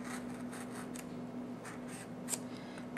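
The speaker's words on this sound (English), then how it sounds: "cutting through the paper." A craft knife scores steadily through glued paper laid on chipboard, giving a faint, continuous scratchy cutting sound heard alone and up close.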